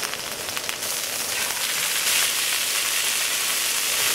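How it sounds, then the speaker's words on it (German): A marinated venison roast sears in a hot pan after being browned on all sides, giving a steady, close, even sizzling hiss with no talk. "So, jetzt haben wir es rundherum angebraten."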